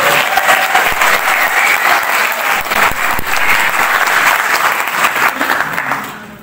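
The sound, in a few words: audience applause for a guest speaker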